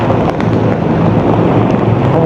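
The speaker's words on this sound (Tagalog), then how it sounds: "Pero medyo lumakas na naman yung ulan, no?" Heavy rain pounding during a ride through deep water, a loud, dense, continuous roar with wind buffeting the microphone and no speech.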